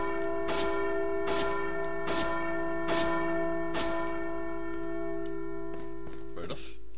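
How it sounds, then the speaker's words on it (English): In Resident Evil 4, a large bell is struck five times in a steady rhythm, each clang ringing out into a sustained hum. A couple of fainter strikes follow over a constant game background. "Bell, I ain't ringing that thing."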